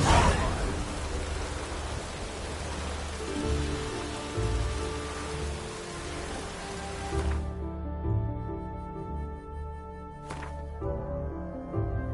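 Steady rain hisses and patters densely in The Witcher 3 before thinning out, with a low rumbling undertone and soft tonal music emerging.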